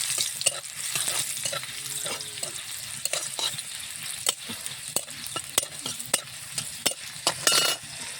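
Garlic and four dried chillies sizzle steadily in hot oil in a pan, with a spoon or spatula stirring and scraping through it and several sharp clinks against the pan near the end.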